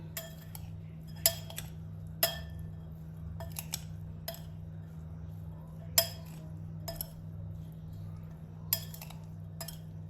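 Utensils scrape and clink against a bowl as pizza börek filling seasoned with salt, black pepper and red pepper flakes is mixed, giving sharp, irregular taps over a steady low hum in a quiet kitchen.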